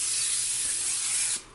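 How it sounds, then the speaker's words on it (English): A close, steady hiss of aerosol cooking spray onto a pan runs continuously for over a second, then cuts off abruptly. "Spray the pan."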